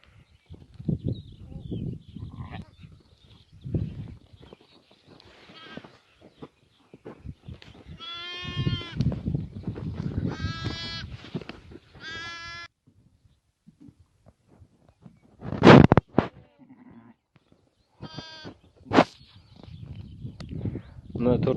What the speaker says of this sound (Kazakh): Мына 4 қой, 1 ешкі.